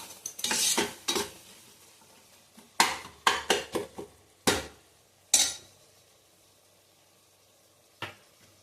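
A metal spoon scrapes and clatters against a pan while masala is fried and stirred for jackfruit biryani, in irregular bursts of clinking over a faint sizzle, with quiet gaps between.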